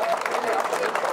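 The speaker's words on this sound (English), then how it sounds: "When was the last time you heard applause for foam?" Brief burst of crowd applause and cheering at a German village beer festival just after a beermeister taps a keg, dense and lively with voices mixed in.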